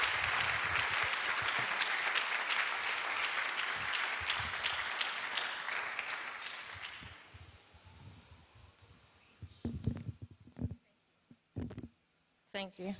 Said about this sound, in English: Please let's give her a round of applause as she comes on stage to speak to us.